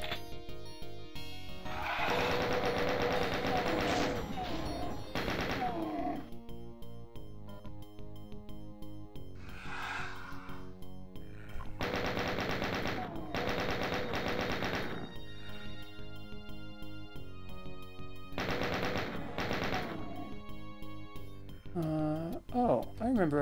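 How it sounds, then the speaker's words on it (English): Rapid bursts of video game gunfire from Doom's SIGIL episode, loud volleys of repeated shots separated by short pauses as enemies are shot down a hallway, with no speech. "Now this is the Doom experience, just running through a hallway, shooting one dude at a time."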